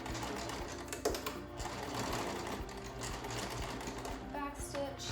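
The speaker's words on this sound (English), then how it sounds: "So I'm going to match up my seams there, and I'm going to sew it down." Sewing machine stitching a medical face mask seam, with a steady close whirring needle chatter running throughout while someone talks quietly.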